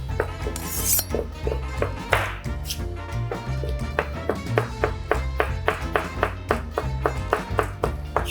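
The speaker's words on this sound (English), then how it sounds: "I'm gonna be cutting this in some julienne strips" A kitchen knife chops produce into julienne strips on a cutting board, making a steady run of crisp, evenly spaced taps that speed up toward the end, close and clear.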